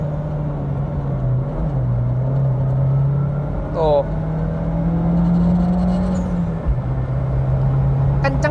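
Mitsubishi Evo X RS with no sound insulation, heard from inside the cabin as the engine drones steadily, its pitch rising and falling under a pull, while a person talks briefly over it.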